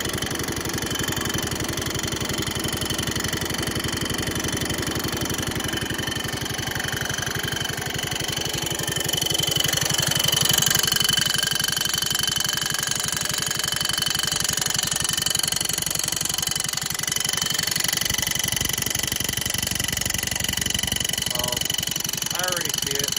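A 1970 140 H3 engine runs steadily with a continuous buzzing drone and a rubbing sound from the rear, its level swelling slightly partway through, while someone talks over it.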